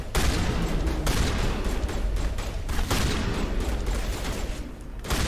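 Rapid pistol gunfire in the video game Mass Effect Legendary Edition, a dense run of sharp shots and bursts going on without a break, fairly loud, with no voices over it.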